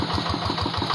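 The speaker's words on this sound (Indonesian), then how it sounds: "menggunakan mesin traktor Quick Impala" A Quick Impala hand tractor engine runs in terraced rice paddies, a close, loud, steady single-cylinder chugging with an even rapid pulse and no voices.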